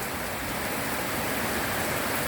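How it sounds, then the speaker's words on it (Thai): Heavy rain pours down in a steady, dense hiss, loud and close, with no break and no voices. "อยู่ด้วยกลางสายฝนนะคะ ฝนแรงมากนะคะ"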